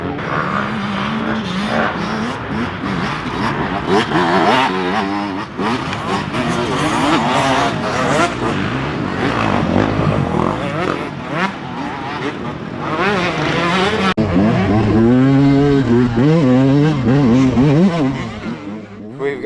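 Several 125cc dirt bikes race nearby in a GNCC cross-country event, their two-stroke engines screaming and rising in pitch as riders shift and battle, loud and continuous with overlapping engine notes.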